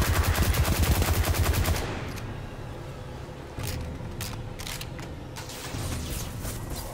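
Rapid automatic gunfire in the shooter game Destiny 2: The Witch Queen rattles loudly in a fast burst, then gives way to scattered shots and mechanical game effects.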